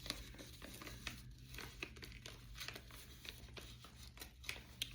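Crinkly tearing and rustling of packaging, close up, with sharp bursts of ripping paper or plastic over a few seconds.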